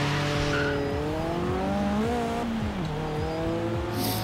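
Mazda MX-5 hardtop in the video game Forza Horizon 3, its engine revving and shifting up and down through the gears at close range, with tire squeal, loud and continuous throughout.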